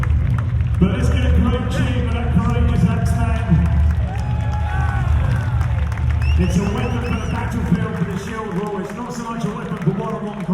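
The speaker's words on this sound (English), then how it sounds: "But let's get a great cheer for that courageous Axeman." Crowd at a Viking battle re-enactment at Clifford's Tower in York cheers and claps for a Viking axeman, a steady dense roar of voices and applause with a voice talking over it throughout.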